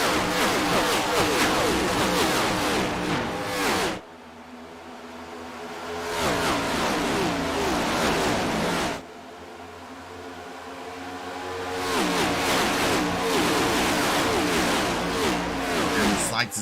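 NASCAR Cup Series stock cars roaring past at Michigan International Speedway heading into turn three, loud engine passes in waves with brief lulls between packs, under a commentator's voice.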